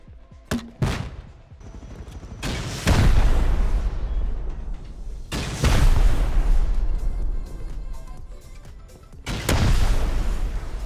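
Loud grenade launcher explosions in the video game Rust, three heavy booming blasts spaced a few seconds apart, each with a long rumbling decay, preceded by a couple of sharp shots.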